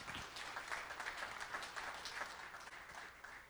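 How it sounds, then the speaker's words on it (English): An audience applauds at an evening event, a steady wash of clapping that holds fairly even throughout at a moderate distance. "Let's give them a big round of applause."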